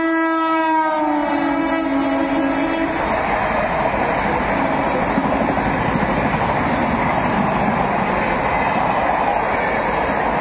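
A Howrah to Kharagpur local train runs steadily and loudly for the whole stretch, its horn blaring at the start before the continuous rumble and rattle of the carriages take over.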